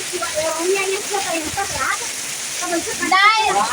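Heavy rain pours steadily over farm fields, with runoff water flowing into the crops, a continuous hiss of downpour under a person talking throughout.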